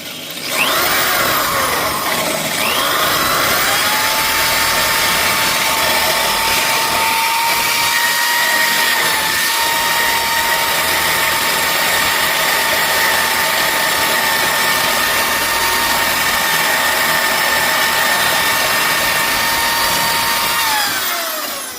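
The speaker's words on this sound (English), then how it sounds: "So I'm going to grind them off with this here grinder." An angle grinder grinds the rivet nubs off a 1965 Chevelle brake part during a four-wheel disc brake conversion, a loud, steady whine with a rising and falling pitch that runs continuously for about twenty seconds, with no talking.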